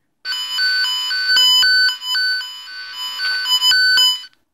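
A network cable tone generator's probe emits a steady, loud warbling electronic tone that rises and falls in pitch for about four seconds.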